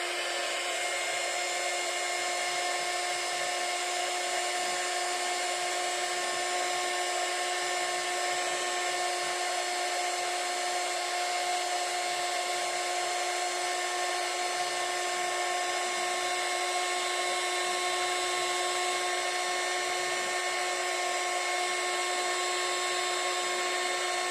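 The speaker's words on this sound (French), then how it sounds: "je vais faire chauffer ça avec mon heat gun" A heat gun blows hot air steadily over gold embossing powder on a handmade card, a constant whirring hiss with a fan hum that runs alone, unchanged, from start to finish.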